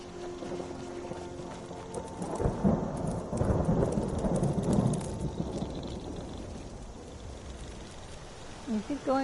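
Thunder rolls over steady rain in a PS4 video game, a long rumbling swell in the middle building and fading against a constant patter, with a few brief sounds near the end.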